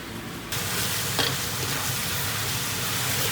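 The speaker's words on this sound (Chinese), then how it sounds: "葱段下锅" Spring onion pieces hit hot oil in a wok with a sudden loud sizzle, then keep crackling steadily as they are stir-fried, close and alone.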